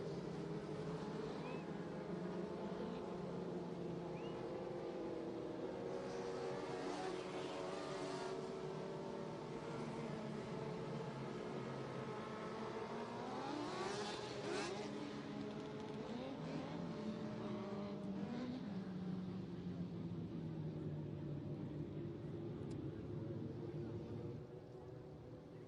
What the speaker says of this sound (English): Ladies and gentlemen, you can hear the engines roar.